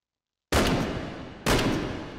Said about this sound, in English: Let's fire 10 shots without the scope.